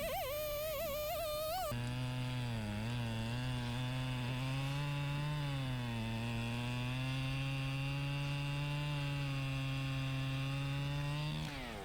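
Chainsaw fitted with a new coil, carburetor and fuel line cutting through wood, a loud close continuous whine that drops in pitch under load and then holds steady as the cut goes through, with no talk.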